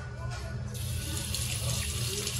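Water runs steadily from a tap while hands are washed with soap at a sink, a close hissing flow that swells after a moment and continues throughout.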